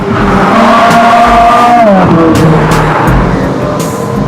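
A commuter car, driven daily to work, roars loudly as its engine revs and shifts pitch, with a sweeping drop midway like a fast pass or gear change, continuous and close.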